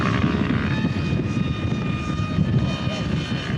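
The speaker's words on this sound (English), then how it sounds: "Listen to that motor going. Full power." A propeller aircraft engine runs at full power, a loud continuous drone with a steady high-pitched whine and slight pulsing throb, close by and with no speech.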